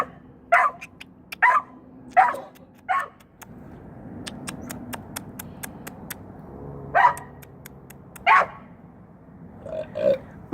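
Dog barking near a car where an otter is hiding underneath, a series of sharp, loud barks in irregular bursts with quiet gaps between them and a faint background hum.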